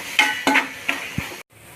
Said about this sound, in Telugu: కొంచెం పసుపు బాగా కలిపేసుకుంటున్నాను